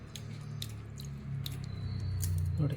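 Sabudana tapioca pearls are washed by hand in water, producing soft, close, wet squishing and sloshing with light drips in an uneven rhythm, no speech.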